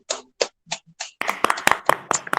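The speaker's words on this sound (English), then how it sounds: "Can we clap for her?" Hands clap at a fundraising event, starting as a few sparse, separate claps and quickly growing into denser, fuller applause from a small audience.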